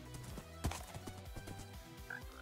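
A horse clops through Minecraft with quick, fairly close hoofbeats in a steady rhythm, along with a brief higher game sound near the end.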